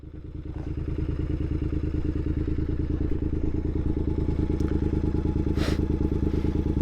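A Triumph Bonneville motorcycle engine idles steadily at close range, a loud continuous throb with a rapid, even firing pulse and faint mechanical clatter throughout.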